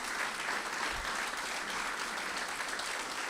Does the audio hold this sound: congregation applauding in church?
yes